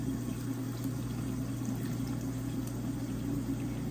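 Liquid streams steadily into canning jars for preserving, a continuous close, even pouring hiss over a low hum with no talk.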